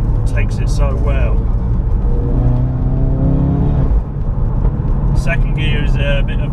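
A 400 bhp Ford Focus RS MK3 engine runs loud and close, revs rising and falling as it shifts up and down through the gears, with a voice talking over the engine noise.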